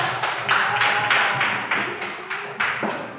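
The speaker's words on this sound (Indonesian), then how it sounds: "Tepuk tangan untuk kelompok A" A class of students claps for a group in a classroom, several short bursts of clapping that rise and fade in a loose rhythm, fairly close and clear with no talk over it.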